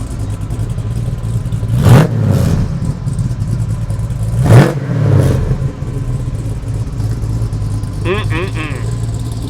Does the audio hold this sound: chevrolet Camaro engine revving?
yes